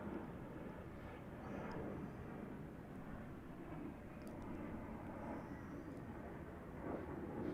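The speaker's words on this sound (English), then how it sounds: "Here comes looks like another Embraer taking off. No, it's a Cessna Citation" A Cessna Citation business jet taking off from Tucson International Airport, a steady broadband engine roar heard from a distance that holds at a constant level throughout, with no voices.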